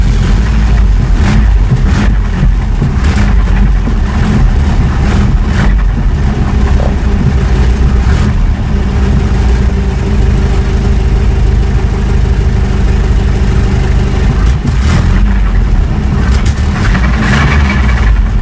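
A 1985 Toyota Pickup with the 22R engine idling steadily after a cold start, a loud continuous low rumble held close throughout with slight roughness and no speech.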